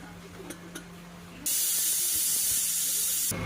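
A sudden loud, steady hiss of steam bursting from a pressure cooker whistle, lasting about two seconds before cutting off, after a few faint clicks.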